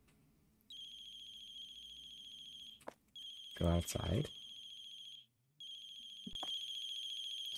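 A video game phone rings in repeated electronic tones while calling a cafe's owner, broken by a short pause, with a loud burst of another sound and a brief spoken line in the middle.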